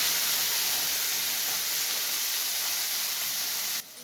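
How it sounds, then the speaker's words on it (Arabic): Peppers sautéing with garlic and onion in a pan, a steady close sizzling hiss that holds evenly for several seconds and then drops off abruptly near the end. "حطيت الفلفل برضو شوحته كده حاجه بسيطه جدا مع الثوم والبصل"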